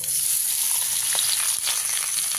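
Boiled papaya and potato pieces fry in a hot pan with oil, giving a dense, continuous sizzle at close range and no talking.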